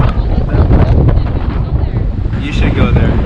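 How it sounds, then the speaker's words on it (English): Strong wind buffets the microphone outdoors at a Bannockburn, New Zealand vineyard on a hot day, a steady loud roar with gusts throughout and a brief higher whistle near the end. "It's really windy right now."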